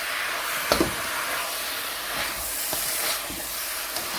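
Steady broadband hiss of beef and onions frying together in a pan, with a few faint crackles and pops scattered throughout.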